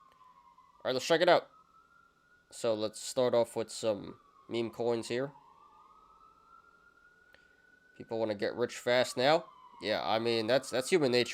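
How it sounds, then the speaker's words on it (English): Police sirens wail outside, a steady rising-and-falling tone running through the whole stretch and clearly audible in the gaps, while someone talks loudly over them in a room. "Sorry about the sirens, guys."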